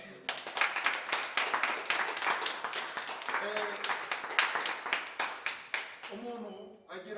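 Applause at a birthday celebration for a KCC leader, a dense run of group hand clapping mixed with voices speaking over it.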